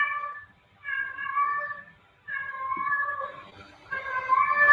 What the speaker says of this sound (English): The cat is really excited.